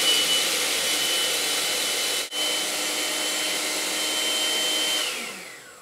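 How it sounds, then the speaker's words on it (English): A borrowed food processor grinds toasted nuts for Russian tea cakes, a loud steady whirring roar with a brief cut-out partway through before winding down at the end. "we're just going to grind them until they're very ground in a food processor"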